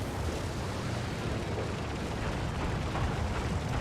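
Rumbling explosion blast from a B-57 bomber's bombs striking a Leopard I tank in War Thunder, a sustained broadband roar filling the whole moment, loud and continuous with no talk.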